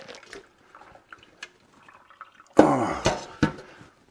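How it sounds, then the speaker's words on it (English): Cured pork pieces for maple bacon are rinsed of surface salt under a running tap. After quiet handling noises, a close splashing gush of water starts abruptly and runs for about a second, then trails off. "Once I've rinsed the surface salt off under running water"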